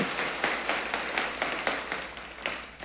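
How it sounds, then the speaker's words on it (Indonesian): A church congregation applauds softly at a distance, a steady patter of many hands with no voices. "tepuk tangannya boleh yang paling meriah buat Tuhan"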